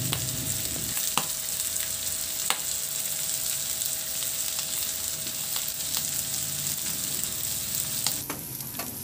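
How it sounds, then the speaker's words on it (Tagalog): Pork sizzles and sautés with garlic and onion in a pan, a steady close frying hiss with a few sharp stirring clicks and scrapes, no voices. "karne para masama na rin gisa sa ating bawang at sibuyas"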